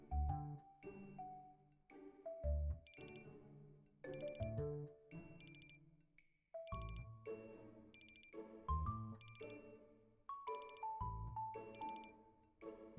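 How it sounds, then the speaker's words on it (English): A chiming alarm tone from the video game Love and Deepspace plays a repeating melodic pattern of bright bell-like notes over a soft backing, steady and fairly loud with no voices. "Oh, that's an alarm I set."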